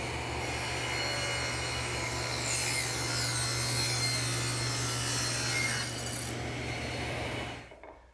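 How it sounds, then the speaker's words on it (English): A table saw with its blade tilted to 45 degrees cuts through wood in one long, steady, close whine lasting about seven seconds, then spins down and cuts off. "all I'm going to use is the table saw. I've tilted the blade to 45 degrees"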